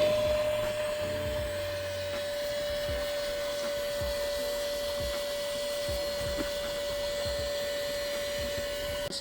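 A vacuum cleaner drones steadily with a high whine inside a car interior, with scraping and bumping of the nozzle against surfaces underneath.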